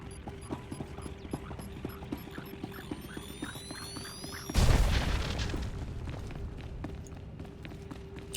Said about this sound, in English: That didn't sound like a big explosion, but sounds could be deceiving.